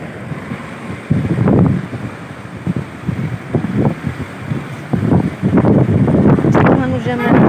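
Strong wind at a station in Tetouan, gusting and buffeting hard against the microphone in irregular bursts, with a voice speaking over it.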